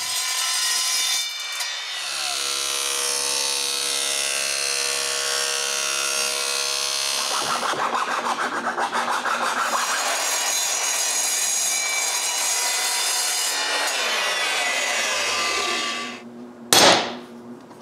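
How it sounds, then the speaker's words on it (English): Aluminium bar being cut with a power saw for new X-Carve supports, a loud sustained whining, grinding cut that shifts pitch partway through, then winds down and ends with a brief sharp clatter, with no talk. "I begin by cutting some aluminium."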